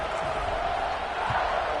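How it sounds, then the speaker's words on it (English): Steady crowd buzz fills a stadium in a Notre Dame college football video game, a dense continuous roar at moderate level with no clear peaks, heard on its own. "this crowd is buzzing after that last score"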